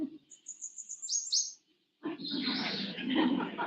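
A clear Cape May warbler song: a quick series of high, thin repeated notes ending in a few slurred phrases, then a voice speaks afterward.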